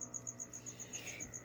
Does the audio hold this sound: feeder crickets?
yes